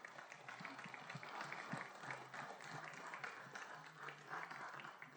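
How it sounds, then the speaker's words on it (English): Evening event audience applauding sponsors, a continuous, fairly distant wash of clapping with steady density throughout, heard faintly without speech over it. "if you would join me in a round of applause for Akabe, Deborah and Ron Feinstein, Spruce Peak Realty, and Top Notch Resort, our sponsors for tonight"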